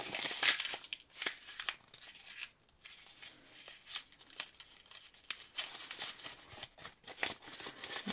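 Very thin paper crumpled and crinkled by hand for texture, a dense, continuous crackling rustle close up with irregular sharper crinkles throughout.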